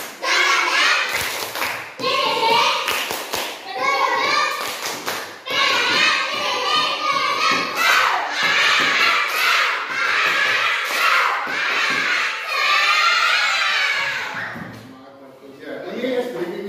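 A class of students performs the 'tepuk semangat' clapping chant, rhythmic claps mixed with loud group voices in a continuous, busy stretch close to the listener.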